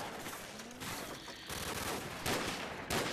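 Sniper rifle shots in Call of Duty 4: Modern Warfare, a few loud sharp blasts spaced apart amid other gunfire, close and forceful with no talking.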